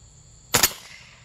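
A single sharp gunshot from a suppressed 300 Blackout rifle firing Lehigh Defense ammunition, a short muffled crack with a quick double peak and brief tail outdoors.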